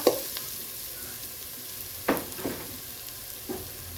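Black pepper being stir-fried in a pan for a Thai chap chai stew, with a few sharp spatula scrapes and clinks over a soft background sizzle.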